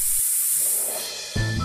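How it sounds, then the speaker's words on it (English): A cartoon fire truck sprays water onto a fire: a bright hissing spray that fades over about a second, followed by a louder burst of rushing sound near the end, with no voices. "Big Red uses all of his strength to spray water."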